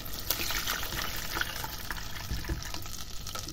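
Mushroom soaking liquid pours through a small strainer into a little pan, a steady close splashing trickle of water that runs continuously for a few seconds without talk.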